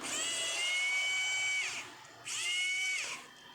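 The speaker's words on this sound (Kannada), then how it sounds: "ಇಲ್ಲೊಂದು ಸ್ಕ್ರೂ ಇದೆ, ರಿಮೂವ್ ಮಾಡ್ಕೊತೀನಿ" An electric screwdriver removes a screw from the sub-board panel of a damaged Vivo Y22 phone, giving two sustained high whines with a short pause between them, close and fairly steady, with no talk.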